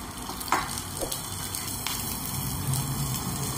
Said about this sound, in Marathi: सगळ्या भाज्या 2-2 मिनिटं फ्राय करून घ्यायच्या